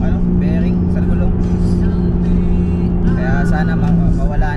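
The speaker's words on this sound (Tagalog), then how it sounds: "Pansin nyo naman yung tunog ng sasakyan namin ngayon is maingay yung bearing sa gulong." A car cruising along an open road with a noisy wheel bearing, its steady rumble and droning hum running continuously under people talking inside the cabin.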